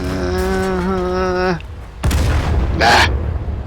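A single heavy cannon shot fires from a Tiger II tank in a tank combat game. The deep boom lands abruptly after a sustained humming engine tone and is followed by a loud, noisy crack and rumble.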